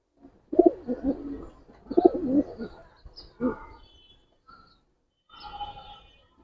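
Soft coos and calls of Giribaz pigeons come in a few short bursts with pauses between, close by and fairly quiet, with faint chirps toward the end.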